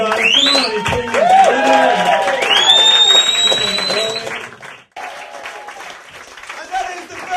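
Audience applause and cheering for a variety show's acts, a loud sustained crowd with shrill whistles rising over the clapping, a brief break, then the clapping continues.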